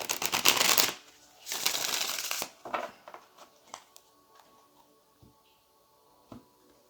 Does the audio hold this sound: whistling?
no